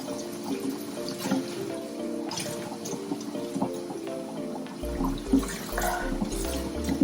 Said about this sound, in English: I'm just gonna rinse everything out.